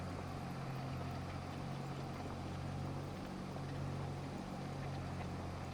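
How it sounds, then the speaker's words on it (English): Tractor engine in the Farming Simulator 25 game, a steady, even low drone that runs unbroken from start to finish at moderate level with no voices over it. "this is my favourite tractor to actually use."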